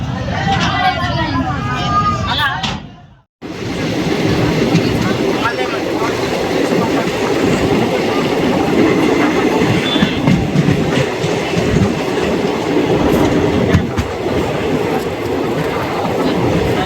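Inside the 17652 Kacheguda-Chengalpattu Express, the train rolls steadily along the rails with a continuous rumble and clickety-clack. Passengers chatter under the noise, which drops out briefly for a moment before picking up again.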